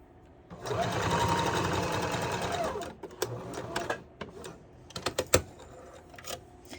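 A sewing machine stitching elastic onto fabric runs in a steady, fast whirring rattle for about two seconds, then stops, followed by scattered clicks and small handling taps.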